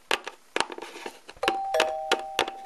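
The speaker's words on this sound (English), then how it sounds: "I'll ring the doorbell." Knocks and clunks lead into a doorbell ringing with a sustained electronic tone, while clattering taps continue around it.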